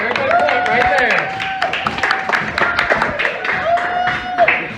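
A group at a fire station claps for a lieutenant newly promoted to fire commander. The claps are close and uneven, running under people talking and calling out.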